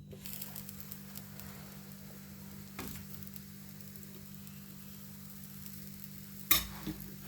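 Paneer-stuffed moong dal chila sizzling in a pan over a low gas flame, a soft continuous crackle and hiss with a couple of brief louder clinks, no talking.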